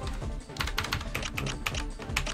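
Rapid keystrokes on a Nanoxia Ncore Retro keyboard, a steady clatter of close, fairly loud clicks over about two seconds with no voice.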